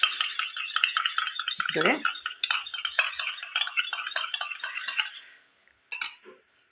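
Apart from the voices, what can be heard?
beating an egg with a spoon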